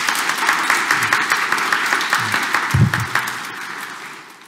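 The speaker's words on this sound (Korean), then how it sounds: "우리 위로와 감사의 박수 좀 보내드릴까요?" A church congregation at a Sunday Korean Catholic Mass in Detroit applauds in steady, moderately loud applause that holds evenly and gradually tapers, with a few low thumps beneath.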